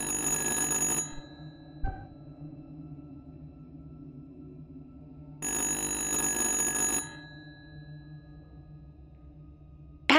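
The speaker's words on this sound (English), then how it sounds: "Answer the goddamn phone!" A telephone ringing in the horror video game Little Hope, two loud bursts of ringing separated by a pause, with a quiet ambient hum in between and no speech.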